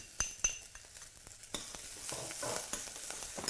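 Ginger browning in a pan as spring onion chunks are tossed in: crisp clinks of a utensil on the pan, then a rising, bright sizzle that stays steady and close, with no talking.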